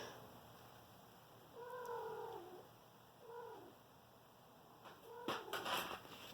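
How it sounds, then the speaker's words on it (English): Cats fighting somewhere at a distance, with a few drawn-out yowls and caterwauls rising and falling, then a brief burst of scuffling and hissing near the end, all fairly faint against a quiet background. "The cats are fighting."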